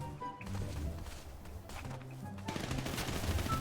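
Rapid bursts of gunfire crackle through a GTA V FiveM roleplay game session, dense and continuous over a rumbling background, with indistinct voices in the mix.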